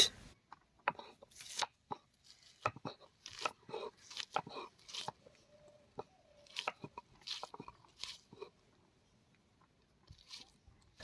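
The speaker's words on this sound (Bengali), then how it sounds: "বন্ধুরা আমরা পেঁয়াজগুলোকে বেটে নিচ্ছি" Onions, chillies and garlic are ground into a paste for a fish curry, with close, irregular crunching and squishing strokes and quiet pauses between them, and no talking.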